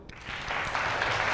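An audience of young people at a youth camp lecture claps after a short pause, the applause swelling into a steady, moderately distant wash of hands that continues to the end.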